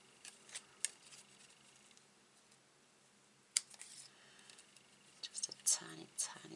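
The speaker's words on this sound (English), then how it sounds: "you can nick this off with your scissors." Scissors snip cardstock in a few sharp, quiet clicks spread across the clip, with a cluster of cuts toward the end, under soft, close, low-level speech.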